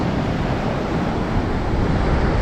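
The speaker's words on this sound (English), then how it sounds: "So we're going to go look at the waves." Ocean surf breaking at a beach in Bali, a steady loud roar of waves with wind noise across the microphone, continuous throughout with no voices.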